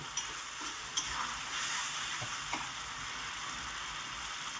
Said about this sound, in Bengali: এবার আরেকটু নেড়ে চেড়ে আমি সুন্দর করে ভেজে নেব